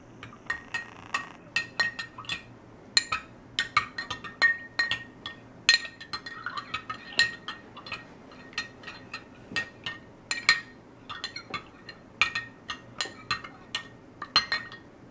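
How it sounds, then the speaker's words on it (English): A spoon stirs thickener into a beverage in a glass, giving rapid, irregular clinks against the glass wall that continue steadily throughout, close and fairly quiet, with no talking. "The next step is to stir with a spoon or fork for 10 to 20"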